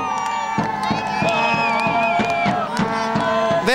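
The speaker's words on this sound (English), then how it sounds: "So we have a big crowd here." A stadium crowd of soccer fans at an LA Blues versus Mexico U-20 match cheers at moderate volume, a steady roar with voices and rhythmic pulses running throughout.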